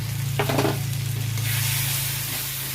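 Tomato, green chili, turmeric and chili powder fry in a pan for a kochu shak dish with hilsa fish head, giving a steady close sizzle with a short burst of stirring scrapes near the start.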